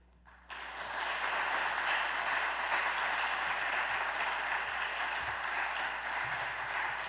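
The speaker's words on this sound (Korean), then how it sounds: "우리 나오실 때에 큰 환영의 박수로 목사님을" A church congregation breaks into warm welcoming applause for a visiting missionary pastor, starting abruptly after a quiet moment and then holding as a broad, even roar of clapping.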